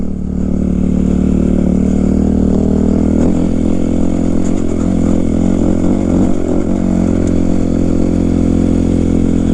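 A 2005 Kawasaki KX 250F dirt bike engine drones loud and close while riding, a steady high buzzing roar with slight rises in revs and no break, alone.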